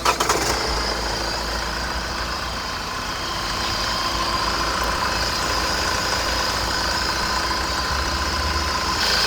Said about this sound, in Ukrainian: Гідропідсилювач вже приїхав. Чуєте звук? Він шуршить просто.